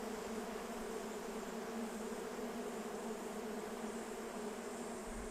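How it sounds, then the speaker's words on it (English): Honeybees fanning their wings inside a smoked hive during beekeeping, a dense continuous buzzing drone that stays steady and close throughout with no talk. "the sound of all of their wings beating as they fan the smoke around"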